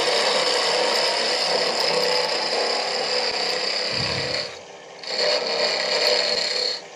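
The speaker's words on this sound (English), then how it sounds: "Now that I've done the sanding" Steady abrasive rasping of sandpaper, 120 to 320 grit, on a small wooden keyring, continuous and close, with a brief pause near the end before the rubbing resumes.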